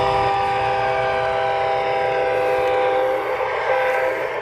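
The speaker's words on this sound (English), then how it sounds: "Granary Road has a new model train exhibit." A model train in an indoor exhibit at an agricultural park sounds a steady, sustained horn or whistle tone over a rumbling running noise, loud and continuous throughout.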